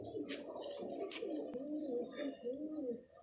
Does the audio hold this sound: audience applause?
no